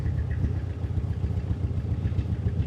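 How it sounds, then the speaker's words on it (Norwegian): A Ginetta G27 sports car idles on a road trip, giving a steady, low, throbbing engine rumble with a faint mechanical clatter on top. It sounds nearby, continuous and even throughout, with no one speaking. "Går han på tomgang og alt nå?"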